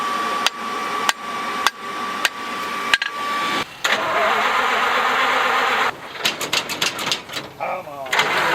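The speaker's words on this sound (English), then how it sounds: "this old fire engine that they're trying to get started right now" An old fire engine being cranked in cold weather at an outdoor festival: several sharp clanks, then a long grinding crank, more clatter and a sputtering attempt to catch, heard close with people talking nearby.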